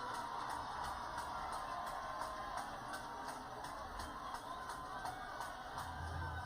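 Crowd at a high school varsity football game, Vineland versus Clearview, producing a steady, distant roar of cheering and chatter that holds evenly throughout.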